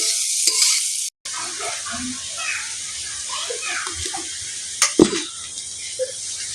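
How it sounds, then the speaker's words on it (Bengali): Chopped onions sautéing in a pan, a soft sizzle with scattered spatula scrapes and taps, a brief gap early on and a couple of sharper knocks toward the end. "এখন দিয়ে দেবো কুচি করে রাখা পেঁয়াজগুলো। পেঁয়াজটাকে ভালো করে লাল লাল করে একটু কষিয়ে নিব।"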